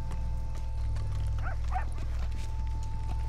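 A dog in Red Dead Redemption 2 gives two short barks, somewhat distant, over a steady low game ambience with faint hoof clops.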